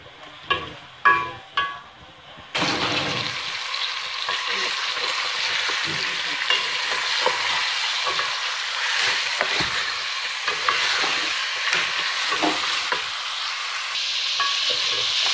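Chicken fries lightly over medium heat with a continuous close sizzle and scattered stirring scrapes, which follow a few sharp knocks at the start.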